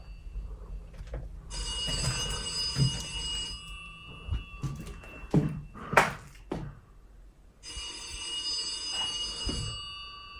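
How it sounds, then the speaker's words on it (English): An unplugged telephone's bell rings in two long, loud electric bursts separated by a pause filled with scattered knocks and shuffling nearby. "That's a phone."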